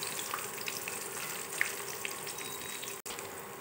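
Chopped garlic fries in oil in a pan, giving a steady, quiet sizzle with faint crackles and pops throughout, close and alone.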